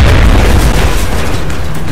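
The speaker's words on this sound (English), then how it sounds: "Bouncing that grenade right there is about as good as I can hope for" A grenade blast in the video game XCOM: Enemy Unknown, a loud, heavy boom at the start with a rumbling low-end tail that fills the two seconds.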